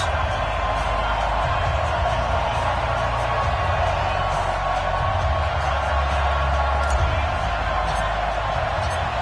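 Steady roar of a stadium crowd in an EA Sports NFL game at a Cleveland Browns versus Baltimore Ravens matchup, a dense continuous wash of cheering that holds level throughout.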